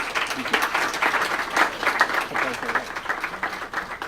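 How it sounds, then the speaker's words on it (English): Steady applause from an audience at a remembrance and reconciliation conversation event, many hands clapping continuously throughout at moderate volume. "another round of applause."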